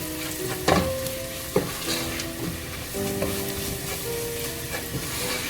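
Coriander powder stirred and fried in a pan for a chicken curry, a steady close sizzle broken by several scraping and knocking spoon strokes, with no voices.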